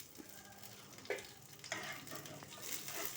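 Dry red chillies, curry leaves and onions fry in hot oil for a tomato rasam tempering, a close, steady sizzle with a few sharper pops and stirring scrapes.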